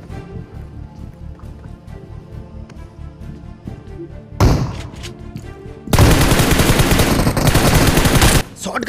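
Shotgun and automatic gunfire in a BGMI battle-royale match, loud dense bursts of shots after quieter game audio and background music, continuing with sustained rapid firing toward the end.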